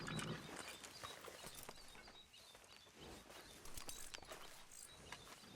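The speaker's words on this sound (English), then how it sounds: "Grab your horse and let's go." A horse's hooves clip-clop at a walk in the Western video game Red Dead Redemption 2, in a soft, uneven rhythm. The sound is faint and sits over a low outdoor ambience, with no speech.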